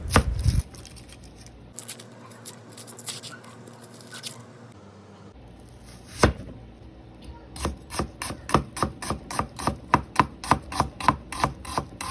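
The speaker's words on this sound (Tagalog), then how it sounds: "Hiwang panggisa naman ang gawin natin sa sibuyas." A knife slices onion on a cutting board to prepare it for sautéing, first a few scattered cuts, then a steady, brisk run of crisp, evenly spaced chops that sound close and clear with no talking.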